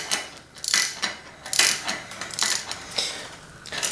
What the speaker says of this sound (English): I'm going to tighten it from above with my ratchet